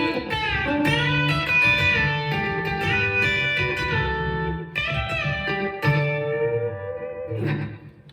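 B-bender electric guitar playing a lick in G built on double stops and bent strings, treated with effects and reverb; bright sustained notes ring out continuously with a few quick attacks over about eight seconds, no talking.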